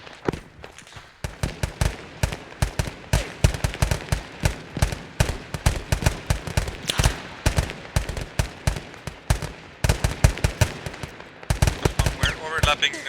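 Squad gunfire in the video game ArmA: loud, close, rapid automatic bursts and single shots crackling almost without pause, rattling on in dense overlapping volleys.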